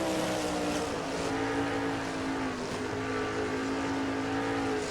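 Race trucks roar past in a truck-series racing video game at a Colorado track, with a steady, loud engine drone and shifting harmonic whine running throughout, no voices.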